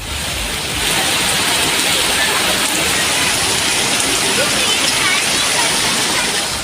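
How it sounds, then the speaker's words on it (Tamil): Heavy rain pours down with gusty wind in Edappadi, Salem district, a loud dense continuous roar of falling water that swells slightly after the first second and holds steady throughout. "சூறை காற்றுடன் கனமழை கொட்டியது"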